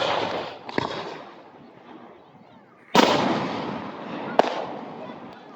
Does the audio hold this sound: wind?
no